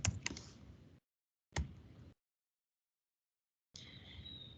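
Keystrokes on a computer keyboard while a search term is typed, a quick burst of clicks, a pause, a second short burst, then a longer run of soft tapping after a gap of silence.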